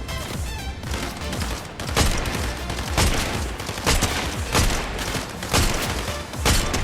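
Dense automatic gunfire rattles in a shooting video game, loud, near and nearly continuous, with sharp repeated bursts and booming thuds for several seconds and barely any talking.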